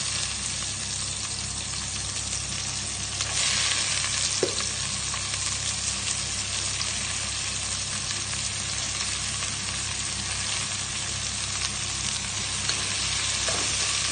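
Onion sizzling and frying in a pan with garlic as it is stirred: a constant close hiss with occasional faint clinks of a utensil, and no one talking.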